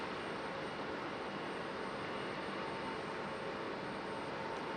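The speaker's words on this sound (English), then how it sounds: "Hard on the reverse thrusters all the way down." A landed airliner at Raleigh Durham International braking hard on reverse thrust, a loud, steady broadband engine roar that holds evenly throughout with no voices.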